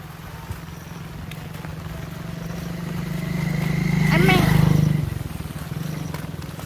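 A motorcycle engine swells as it approaches and passes close by, then fades, with voices and road noise around it.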